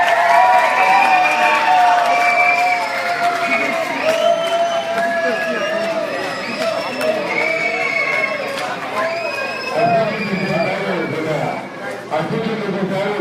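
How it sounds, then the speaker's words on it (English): A crowd of children cheers and shouts during a school assembly on the first day at Farber Hebrew Day School, a dense, loud wall of high voices that stays steady throughout and dips briefly near the end. "Give a cheer."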